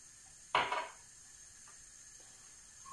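A metal cooking pot is set down with a single sharp clank, followed by quiet kitchen stillness with only faint, soft movement.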